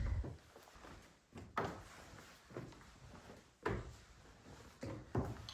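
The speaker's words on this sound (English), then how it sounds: "Here's a drawer and where to put my clothes." Wooden drawer in a lodge room being opened and closed, several separate thunks and slides spread across a few seconds, close and fairly quiet against a hushed room.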